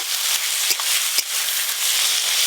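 Onion with ginger-garlic paste fries in mustard oil in a pan, a steady close sizzle with a few soft stirring clicks.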